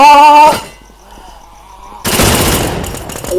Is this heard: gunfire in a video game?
yes